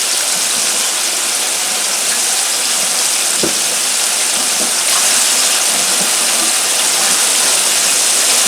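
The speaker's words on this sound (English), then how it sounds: "Kind of get my dishes cleaned up as we go along." Running water pours steadily from a kitchen tap while dishes are washed, a loud continuous gushing rush with a faint clink or two beneath it and no talk.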